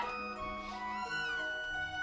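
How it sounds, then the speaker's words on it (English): A cat mewing in the video game Chrono Trigger, a soft, slightly warbling synthesized meow set over steady game music, close and clear. "And it mews slightly"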